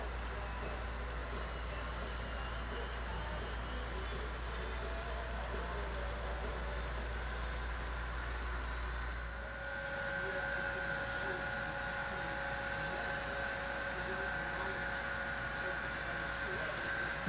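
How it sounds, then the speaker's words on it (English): A model Union Pacific freight train, hauling 45 cattle cars out of Cheyenne on a Wyoming Division layout, runs with a steady, low mechanical rumble and faint hum throughout, while someone narrates over it. "As our train sets out from Cheyenne with 45 cattle cars of young beef for the western markets"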